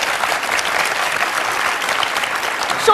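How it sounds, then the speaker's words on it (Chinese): An audience at a book talk claps to welcome speakers: a sustained, dense burst of applause, close and even, lasting the whole few seconds without voices. "再次掌声欢迎"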